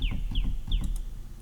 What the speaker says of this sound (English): There's that famous bird tweet sound.